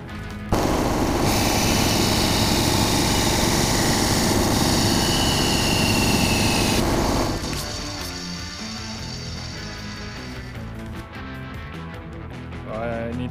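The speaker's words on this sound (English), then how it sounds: "So, bandsaw time." A bandsaw cuts through a metal spacer, giving a loud, steady grinding whine for about six seconds before the blade winds down and the noise drops to a quieter hum with some handling clatter.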